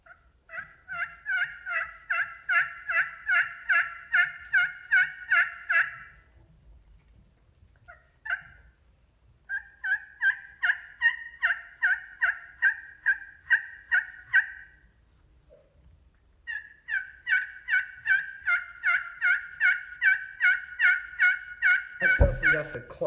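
A turkey friction call imitates a turkey with three long runs of rapid, evenly pulsed yelps separated by short pauses, close and clear, ending in a brief thump.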